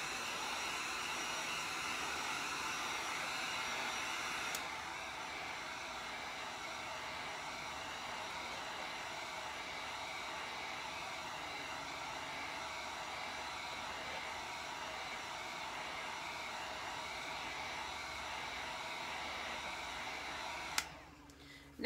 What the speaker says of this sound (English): You're going to hit it with your heat gun for about 10 to 15 seconds.